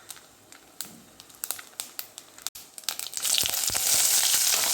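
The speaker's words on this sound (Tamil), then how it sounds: "சின்ன வெங்காயத்தை சேர்த்து நல்லா பொன்னிறமாகிற வரைக்கும் வதக்கணும்." Small onions hit hot coconut and groundnut oil with mustard seeds for a horse gram chutney. Sharp scattered crackles and pops quickly swell into a loud, dense, continuous sizzle close by.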